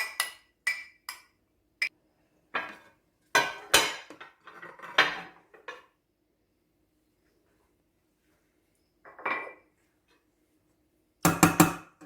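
A metal spoon and a ramekin clatter and clink sharply as they are handled, in a string of close, bright knocks and chinks. Quiet pauses separate the bursts, and a loud cluster of clinks closes the sequence.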